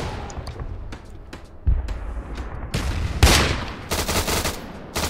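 Bursts of machine gun fire in a Scorched Earth battle video game, rapid rattling volleys and sharp single shots growing louder and denser over several seconds, close and aggressive, with no talking.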